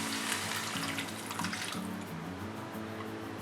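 Water runs steadily from a tap or jug into a pan on the stove, a continuous splashing pour as liquid is added for cooking rava in a Tamil tomato rava bath recipe.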